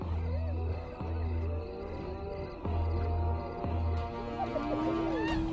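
Male lions in the wild give deep, repeated roars and grunting calls, several bursts in a rhythmic series, fairly loud against an open outdoor background of faint insects and birds.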